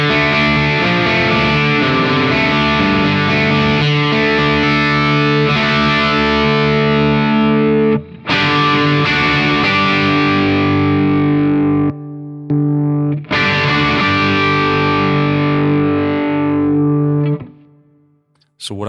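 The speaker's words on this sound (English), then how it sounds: "what I hear when I put that second dip switch down and add in some more asymmetrical clipping, I'm hearing more of a power tube saturation type sound" Electric guitar through a Protein v4 pedal with asymmetrical clipping, giving a saturated overdriven tone; sustained chords ring loud and close with a few short breaks.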